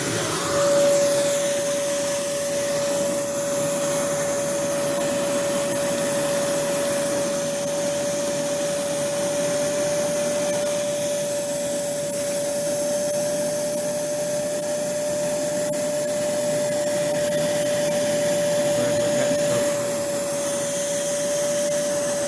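A Rug Doctor Pro carpet cleaner extracts and dries a treated carpet with a loud, continuous motor drone and a steady whine that hold unbroken from start to finish, close up and without speech.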